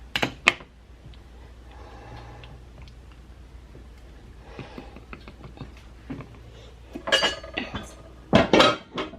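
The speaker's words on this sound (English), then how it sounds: "I'm gonna kind of stir this around, making sure there's no air pockets in it." A spoon scrapes and clinks inside a glass jar of homemade orange marmalade, with quiet intermittent stirring giving way to louder, sharper clinks and taps near the end.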